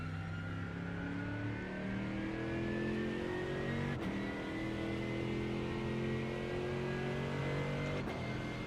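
GT3 race car in the iRacing simulator at Road Atlanta, engine climbing steadily in pitch under acceleration with two quick gear shifts, a continuous close, even drone with no talk.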